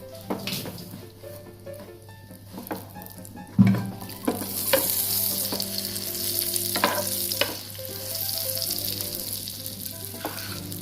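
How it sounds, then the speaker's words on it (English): Round bread fries in a pan with a steady sizzle, broken by a few utensil scrapes and one louder knock partway through, and no talking. "Fry the bread. It is a round bread."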